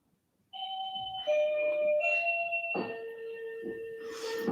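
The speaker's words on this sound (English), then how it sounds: "I don't know if you can hear the doorbell bringing us back" A doorbell chiming a slow sequence of clear, sustained tones stepping downward, each note ringing out and overlapping the next indoors, with no talking.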